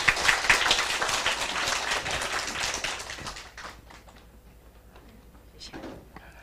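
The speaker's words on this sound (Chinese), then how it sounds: "所以我们掌声欢迎平如老师。" Audience applause welcomes a lecturer at a talk on One Hundred Years of Solitude, a dense burst of clapping that runs loud for about three seconds and then thins out and fades.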